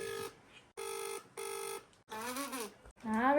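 A phone ringing in repeated electronic bursts, loud and close, followed by rising warbling tones as the call is placed.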